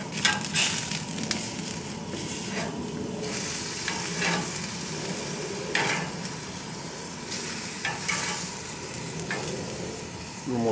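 Peppers and other vegetables sizzle steadily on a grill, with a continuous crackling hiss broken by occasional scrapes and clicks from turning them.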